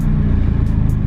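A car engine revs loudly and steadily up close with a deep, continuous rumble, setting up for a drag race against a GTI.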